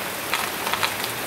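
Rain falls steadily after months of drought in Loma de Cabrera, a constant close hiss with faint scattered drop ticks and no voices.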